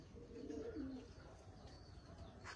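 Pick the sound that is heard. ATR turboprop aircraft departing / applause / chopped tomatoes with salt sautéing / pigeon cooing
pigeon cooing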